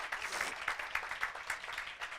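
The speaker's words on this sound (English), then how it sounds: "Big round of applause." A dinner audience claps for an OR nurse, a sustained patter of many hands at moderate distance that stays fairly even throughout.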